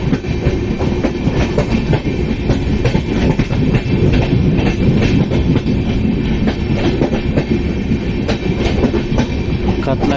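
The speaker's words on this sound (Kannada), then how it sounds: "ಟ್ರೈನಿಗೆ ಪೂರ್ತಿ ಶಿರಾಡಿ ಘಾಟ್ನಾಗ ಹೊಂಟತಿ" The Panchaganga Express, train 16595, rumbles through the Shiradi ghat, with a loud, continuous roar of wheels and carriages and steady clickety-clack heard from on board.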